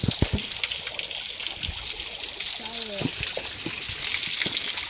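Water rushes steadily through a pipe at a resort in San Jose, Tarlac, a constant gushing hiss with occasional knocks, while a person speaks briefly nearby.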